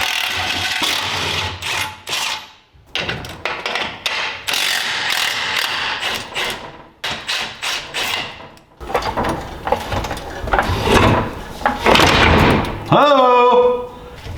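Ratchet wrench removing bolts from the frame of a gas-converted golf cart, a close series of rapid clicking bursts in several runs with pauses between, alongside someone talking.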